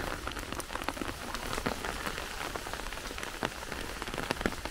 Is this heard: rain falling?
yes